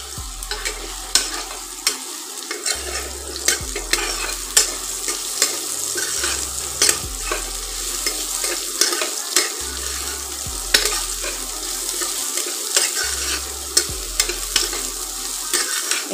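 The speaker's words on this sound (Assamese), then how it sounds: "আৰু মই একেখিনি তেলতে এই চয়াবিনখিনি যিখিনি মই মেৰিনেট কৰি ৰাখিছিলোঁ এইখিনি ইয়াতে দি দিম।" Marinated soybean chunks sizzle steadily in hot oil in a pan while a spatula stirs them, with repeated scraping strokes and low thumps close by and no talking.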